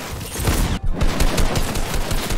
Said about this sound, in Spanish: te están disparando a ti, creo